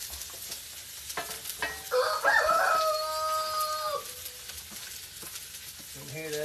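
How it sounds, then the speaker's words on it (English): Onions and bell peppers sizzle and crackle in a hot pan at moderate volume, with faint clinking and shifting sounds of stirring. "You can hear that old sizzle in there"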